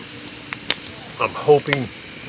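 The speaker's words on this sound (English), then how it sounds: "You can hear we got some crickets and stuff." Crickets chirping at night in Medoc Mountain State Park, a faint thin steady trill in the background while a person speaks quietly over it.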